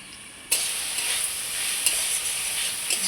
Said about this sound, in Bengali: ঢাকনাটা তুলে আমি একটু আবারও নেড়ে নিচ্ছি।